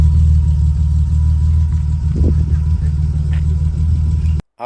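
A BMW E30 engine runs with a steady, deep idle rumble, close and loud, its low drone holding constant before cutting off abruptly near the end.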